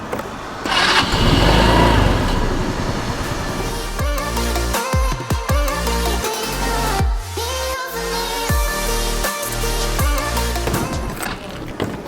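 A motorcycle engine in Cappadocia, Turkey, cranks and catches into a loud, close, steady running rumble with uneven revs and throttle blips. There is no talk.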